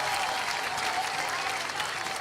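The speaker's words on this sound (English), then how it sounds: "kindly pay them a huge round of applause" A large audience applauds a Tibetan performing arts troupe at a birthday anniversary celebration, with sustained, even clapping filling the hall from start to finish.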